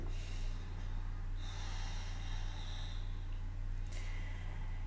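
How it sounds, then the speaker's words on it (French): Slow, breathy ujjayi ocean breathing with a soft oceanic rush on each breath, steady and close, over a constant low hum; no talking. "Ce qui donne comme un bruit de vagues dans l'océan ou de respiration de Dark Vador"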